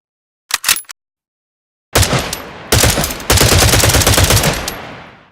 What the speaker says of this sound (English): The machine gun sound design was created in the same manner as the shotgun and rifle.